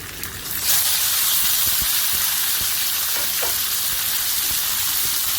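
Chicken pieces sizzle and fry in a hot pan, a steady loud crackling hiss that swells as the meat goes in and continues unbroken, with a few faint clinks underneath.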